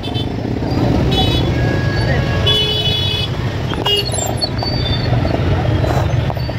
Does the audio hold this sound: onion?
no